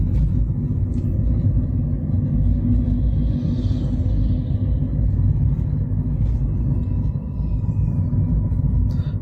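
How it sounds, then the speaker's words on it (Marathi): Steady loud rumble of passing road traffic with trucks at night, a continuous low drone of engines and tyres with no gaps and no voices. "जाणारी ट्रॅफिक."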